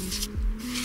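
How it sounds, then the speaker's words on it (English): Short hissing bursts of compressed spray blast dust out of a gun's action, close and harsh, with a brief low rumble in between. "We spray down everything to blow out all the dust from inside."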